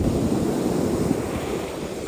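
Pacific Ocean waves wash steadily onto a San Francisco beach close by, a continuous surging hiss mixed with light wind rumble.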